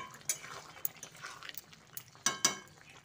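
A spoon stirs sugar into a poppy seed dish in a pan, giving a few soft scraping taps and two sharper clinks near the end, close and quiet with no talking.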